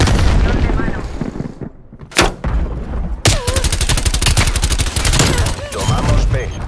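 Heavy hand cannon shots boom in Call of Duty: Black Ops Cold War multiplayer, a few loud separated blasts followed by rapid automatic gunfire bursts, with game voice chatter underneath.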